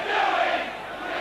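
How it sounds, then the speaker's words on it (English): A rugby league crowd at a Leeds versus Castleford match jeers the referee, a loud, dense roar of massed voices sustained across the short moment. "The referee coming into some criticism from the crowd"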